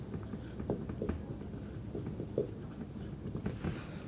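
A pen or marker scratches faintly across a board or page while a geometry problem about alternate angles is written out, in short strokes and taps with soft background noise.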